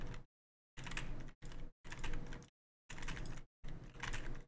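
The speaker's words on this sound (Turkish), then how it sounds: "Mekanik klavye dediğim Blue Switch olur abi." Bursts of rapid, clicky typing on a mechanical keyboard with Blue switches, close and fairly loud, coming in several separate runs broken by short silent pauses, with no talking.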